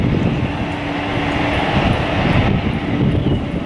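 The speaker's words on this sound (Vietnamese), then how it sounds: "Hai chiếc máy bay của Vietjet cũng đang trên đường đi ra đường bay." Two Vietjet airliners taxi toward the runway at Tan Son Nhat Airport, making a loud, steady, broadband jet engine rumble and roar that holds throughout without any speech.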